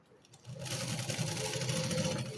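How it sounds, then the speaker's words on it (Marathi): A sewing machine stitches a seam along fabric, running as a steady, fast mechanical whir with a rhythmic needle chatter that starts after a brief pause and continues without letup at close range. "जो भाग जादा झाला आहे त्याला मुंड्यातून जरा आतून शिलाई घ्यायची"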